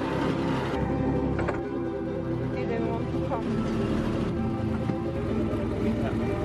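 Small farm motor cart (patpat) engine running steadily in rural Poland, a continuous close chugging drone with faint rattles throughout.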